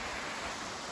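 Small waterfall beside a mountain path on a walking route over a pass, heard as a steady, even rush of falling water filling the whole moment without a break.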